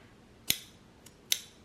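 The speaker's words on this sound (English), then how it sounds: "So I'm going to grab my scissors here." Fabric scissors snip sewing fabric while clipping a collar seam allowance, giving two crisp close cuts with a fainter click between them in a quiet room.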